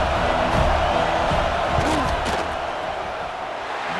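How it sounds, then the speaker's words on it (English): A roaring stadium crowd in the EA Sports College Football 26 video game swells loudly before a field goal attempt, a dense steady wall of noise that eases slightly toward the end. "This crowd trying to do its part to get inside the kicker's head."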